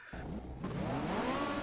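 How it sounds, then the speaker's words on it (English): Touring car engines revving on the starting grid at Silverstone National in GTR 2, 1993 BTCC, a sudden onset of a rising, whining engine roar building steadily over under two seconds. "Engines are revved."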